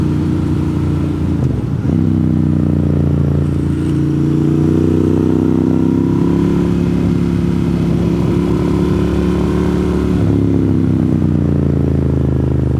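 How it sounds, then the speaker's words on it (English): A motorcycle rides along US28 west of Franklin, North Carolina, its engine giving a loud, steady drone that dips and rises as it shifts and accelerates, with wind rushing underneath. "all the sounds that this bike makes when you ride it"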